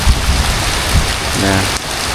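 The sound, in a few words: heavy rain falling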